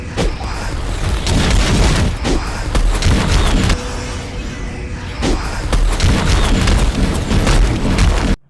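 Missile launcher explosions in the fighting game Shadow Fight 3, dense and loud booming blasts rolling almost continuously, with a brief lull midway before the barrage resumes.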